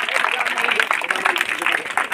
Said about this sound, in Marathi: त्याबद्दल एकदा जोरदार त्यांच्या टाळ्या वाजवून स्वागत करा